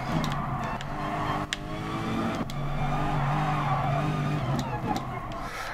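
Sliding tyres on a car in the racing game Gran Turismo Sport, with worn tyres coming out of corners. A loud, steady engine drone runs throughout, and a few sharp squeals and clicks sit on top of it.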